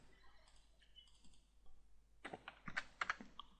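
Fingers tap out a value on a computer keyboard, a quick burst of close, crisp keystrokes in the second half after a quieter stretch of faint clicks, with no talk over them.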